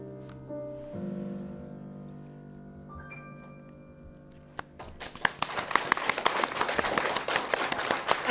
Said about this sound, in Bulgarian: Аплодисментите са за Стефан Ступак на 13 години и неговото произведение.